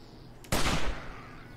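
A single loud .44 Magnum shot fired in the zombie game 7 Days To Die, a sharp broadband crack followed by a short decaying tail, with no talk.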